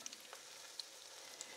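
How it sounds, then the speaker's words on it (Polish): Apple kefir pancakes fry in a pan at medium heat, giving a steady, even sizzle throughout with a few small pops, close and moderately quiet, with no one talking. "No i będziemy po kolei smażyć nasze placki."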